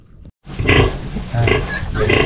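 Close, loud snorting and grunting from horses come in a few bursts after a brief silence, rough and breathy.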